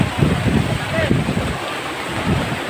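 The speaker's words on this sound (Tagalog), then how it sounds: "Malakas ang ragasado." Floodwater rushes strongly past during Typhoon Ulysses as a continuous roaring wash of water, buffeted by wind noise on the microphone, with voices talking faintly underneath.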